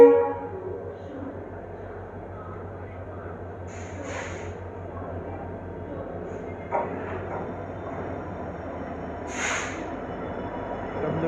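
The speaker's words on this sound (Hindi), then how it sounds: "ये भाई जोधपुर का 1 नंबर प्लेटफॉर्म और अपनी साबरमती लगी है 2 नंबर प्लेटफॉर्म पे।" The Sabarmati Express stands at a platform of Jodhpur railway station amid a low idling rumble and ambient station noise, with two short horn toots from a distance.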